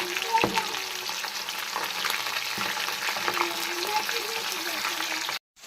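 Rava-coated sardine fish fries in hot oil with a steady, dense sizzle, close and continuous, and a few faint clinks, before it cuts off abruptly at the end.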